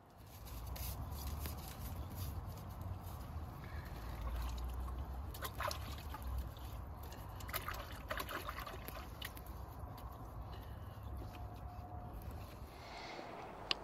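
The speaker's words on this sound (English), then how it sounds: "If there's any stubborn stuff on, I'll give it a wash over lightly with a bit of water" Water trickles and splashes while dirt is rinsed off freshly harvested onions in a garden, a continuous soft flow with small splashes and clicks, close and without voices.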